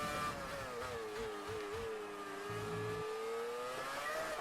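A Formula 1 car engine in the racing game F1 2019 drones steadily at high revs, its pitch sliding and wavering with gear and throttle changes, a continuous close whine with no talk over it.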